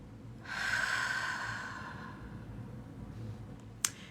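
One slow, deep breath drawn in close to the microphone during a calm morning meditation, a soft breathy rush lasting about a second and a half that fades away, followed by a small click.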